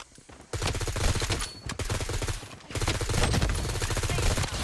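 Loud, dense gunfire in the battle royale shooter Blood Strike during a solo versus quads fight that ends with a sniper no-scope shot, heard as sustained rapid-fire bursts with a brief lull in the middle.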